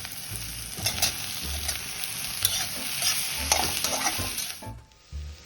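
Boiled potatoes stirred into fried onions and spices in a hot pan for piyaji kachori filling, repeated scraping stirs over a steady sizzle, close and fairly loud, easing off near the end.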